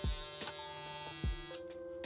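An electric hair trimmer fitted with a GTX blade buzzes steadily up close, a bright motor whine with a few low thumps, then its pitch shifts slightly near the end.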